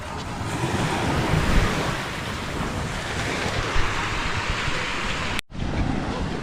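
Sea waves roll onto a beach at Bucana on a Saturday morning, a continuous rushing surf mixed with gusty wind buffeting the microphone, steady and fairly loud before an abrupt cut near the end.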